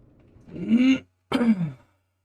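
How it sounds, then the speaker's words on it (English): Two separate bursts of throat clearing from a nearby person, each harsh and voiced and roughly half a second long, with a short silent gap between them. "Sorry about the clearing my throat."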